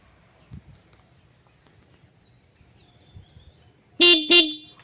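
Horn of a Yamaha Ray ZR 125 BS6 hybrid scooter, two short loud beeps in quick succession near the end after a quiet stretch with faint background noise.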